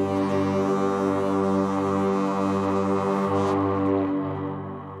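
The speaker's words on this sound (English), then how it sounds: "oh no, second horn call here, another patch in the Warhorn Designer 1" A deep, brassy war horn call sample sounds in one long sustained blast, loud and full, then fades out.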